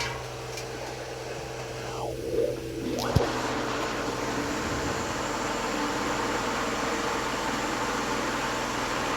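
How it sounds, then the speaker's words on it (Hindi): A kitchen blender whirs through mango pulp for aam panna, a steady, dense grinding roar that dips briefly partway through before running on evenly and close. "अब हम उसको भी ब्लेंडर में ब्लेंड कर देंगे इसको"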